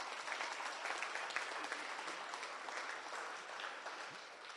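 A crowd at a community event in Ward 46, Rylands Estate, applauds volunteers with dense, even clapping that holds steady throughout at a moderate distance.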